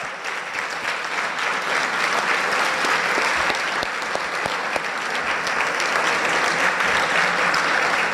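Loud, sustained applause from a large audience at a teachers of the year awards ceremony, dense clapping filling the room at an even level throughout, with a few sharper individual claps standing out.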